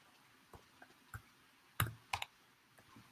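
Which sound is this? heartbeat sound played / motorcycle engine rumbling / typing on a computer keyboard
typing on a computer keyboard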